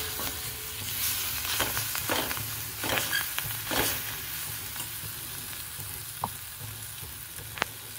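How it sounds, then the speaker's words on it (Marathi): Fenugreek leaves sauté in hot oil with ground spices, giving a steady close sizzle broken by scraping stirs and the occasional sharp clink of a spoon against the pan. "हे मसाले घातल्यावर पुन्हा थोडा वेळ भाजी परतून घेणार आहे तेलामध्ये"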